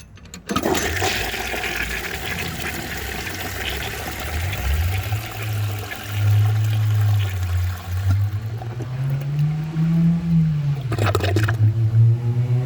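A 1950s Kohler Trent toilet flushing a dish towel, with a rushing, gurgling flush whose low tone swoops up and down as water struggles through the bowl, close and fairly quiet.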